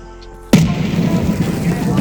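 A sudden loud grenade blast in Escape from Tarkov erupts after a quiet moment, followed by a rumbling, crackling tail.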